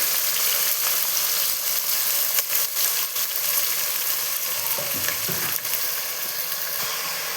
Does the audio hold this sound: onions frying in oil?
yes